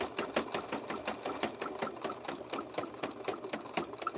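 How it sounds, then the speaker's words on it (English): A sewing machine stitches rope into a handbag with rapid, even, mechanical clatter, each needle stroke ticking at a steady rhythm, close and alone. "It's only doing it because I'm using a total different sewing machine."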